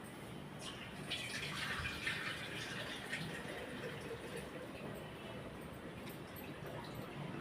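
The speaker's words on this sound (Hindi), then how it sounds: "थोड़ा सा डाल देते हैं दूध में पानी।" Water poured from a small amount into milk in a cooking pot in a home kitchen, a soft trickling splash over a steady background hiss, faint and close.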